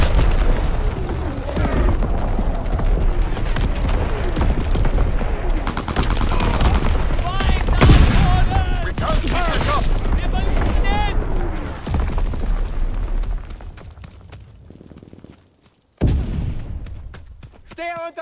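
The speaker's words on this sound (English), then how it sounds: "Incoming enemy artillery! Get to cover!" Incoming enemy artillery in the World War II shooter Call of Duty WWII: repeated heavy booming blasts and rattling gunfire, loud and continuous, with shouted in-game voice callouts over the barrage before it briefly drops out.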